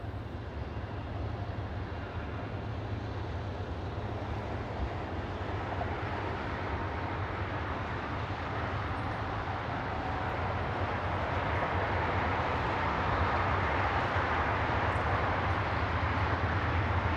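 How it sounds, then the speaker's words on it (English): A southbound Union Pacific manifest freight train led by three EMD SD70M diesel locomotives produces a steady, continuous rumble and roar that holds level throughout with no voices. "In charge of the southbound Union Pacific manifest are General Motors Electromotive Division ST70M locos"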